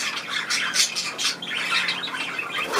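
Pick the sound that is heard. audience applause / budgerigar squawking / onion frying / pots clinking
budgerigar squawking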